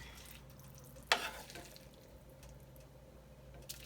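A spoon stirs potatoes and fideo noodles in a pot for chicken fideo, with one sharp scrape near the start and then a faint, low simmering hiss. No one speaks.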